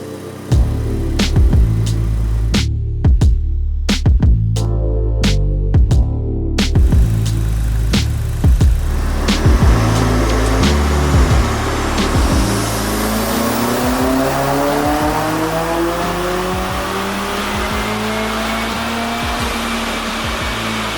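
Chevrolet Cruze fitted with performance cams, its engine revving hard through repeated gear changes with sharp shift breaks, then settling into a loud, rising and falling drone, close and without talk.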